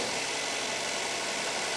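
Mercedes-Benz S400 engine on its first cold start, idling roughly and shaking with a steady, close, loud mechanical drone and vibration, no one speaking.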